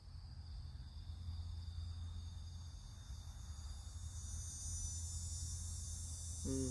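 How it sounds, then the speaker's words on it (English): A continuous high-pitched insect drone buzzes steadily throughout, fairly faint and distant, with a low hum underneath. "There goes those cicadas."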